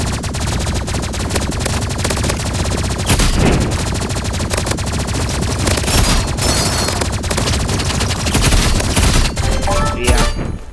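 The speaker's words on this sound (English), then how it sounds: "The energy pistols are overpowered, bro." Energy pistols firing in a video game match, dense rapid bursts of shots nearly nonstop and loud, with brief changes in intensity and faint voices beneath.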